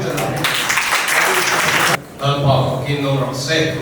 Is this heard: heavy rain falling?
no